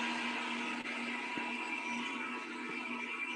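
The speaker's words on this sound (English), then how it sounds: "I hear a blender going off or something." A blender whirs steadily in the background, a constant faint motor drone with a slight hum, continuing unchanged for the whole stretch.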